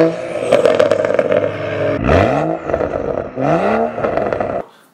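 A BMW 335i with a loud aftermarket exhaust barks and revs in short bursts, each throttle blip rising then dropping with crackly rasp, close and loud, ending in a sudden cutoff.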